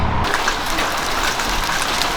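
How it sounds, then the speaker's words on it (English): Dense, steady pattering of hail or heavy precipitation striking a surface, loud and continuous throughout with no voices. "It's now hailing."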